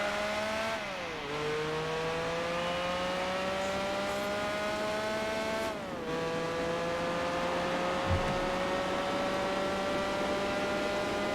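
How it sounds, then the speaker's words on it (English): Race car engine in the Gran Turismo 4 video game drones steadily at high revs throughout, with brief dips around gear shifts and a faint second car audible in the mix. "I hear another car on the other side."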